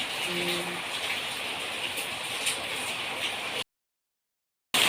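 Heavy rain pours steadily as a dense, broadband hiss during a flood period, holding constant for about three and a half seconds before cutting to silence, then briefly resuming at the end.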